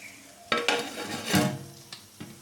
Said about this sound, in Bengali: আর এই ঢাকনাটা দিয়ে ঢাকা দিয়ে দেবো।